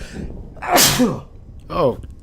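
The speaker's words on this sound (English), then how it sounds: "A sneeze snuck up on me." A single loud, close sneeze with a sharp intake and burst, followed by a short voiced exhale.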